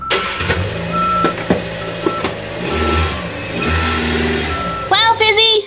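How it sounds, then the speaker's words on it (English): A big moving truck arrives with its engine rumbling. Sharp reversing beeps repeat through most of the stretch, close and loud, and a burst of cartoonish chirps sounds at the end. "I hear Fizzy's moving truck!"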